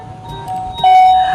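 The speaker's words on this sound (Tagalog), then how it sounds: "Ay, may nag-doorbell sa gate!" A short electronic doorbell chime from a gate rings out, a couple of clear tones rising in level near the end, heard close and alone.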